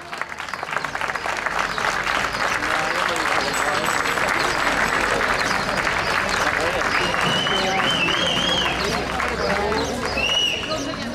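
Sustained applause from a crowd at an outdoor Mayos prize-giving ceremony on a street, dense steady clapping filling the whole stretch with murmured voices and faint whistles mixed in.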